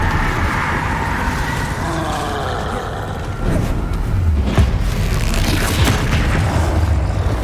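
A Descendo spell cast in the Hogwarts Legacy video game lands as a loud, rumbling boom over continuous game noise, with a sharp impact about midway and a sustained roar afterward.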